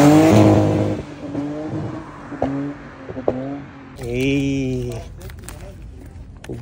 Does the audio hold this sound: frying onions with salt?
no